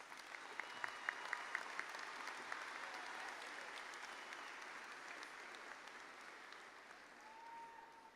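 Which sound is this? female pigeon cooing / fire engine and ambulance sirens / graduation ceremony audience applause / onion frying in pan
graduation ceremony audience applause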